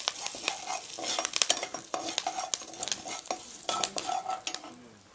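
Curry leaves, about three sprigs, crackle and sizzle in hot oil while being stirred, with sharp scraping clicks and spits coming in quick irregular bursts, close and fairly quiet, no voices.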